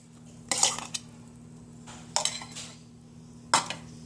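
Semolina, wheat flour and rice flour for unniyappam are mixed in a bowl, with three separate bursts of a spoon clinking and scraping against the bowl over quiet background hum.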